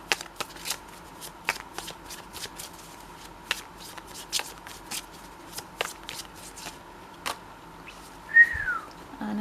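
Tarot cards are shuffled close up in a quiet room, with quick crisp riffles and sharp snaps in an uneven rhythm, then a brief faint whistle-like sound near the end.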